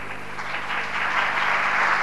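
A crowd claps steadily, the applause swelling a little louder and fuller as it goes on, with no voices over it.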